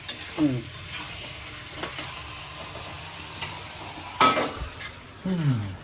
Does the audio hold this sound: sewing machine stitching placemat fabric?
no